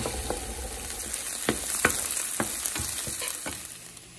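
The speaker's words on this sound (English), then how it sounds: "Let it warm up and put my onions to saute." Onions sizzle steadily in hot olive oil, with a few distinct crackles and stirring scrapes punctuating the continuous frying hiss.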